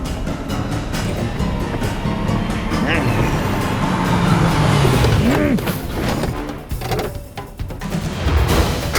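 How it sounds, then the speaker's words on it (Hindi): A parked vehicle's engine idles with a low steady rumble, while voices talk over it and occasional knocks and movement sounds break in nearby. "गाड़ी का इंजन चालू है।"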